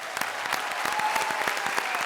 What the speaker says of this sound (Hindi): अनिल जी के लिए थोड़ी बहुत तालियां हो जाए